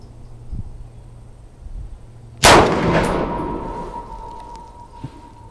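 A single loud .308 shot from an Armalite AR-10 rifle cracks sharply outdoors, followed by a ringing decay and faint crickets in the quiet background.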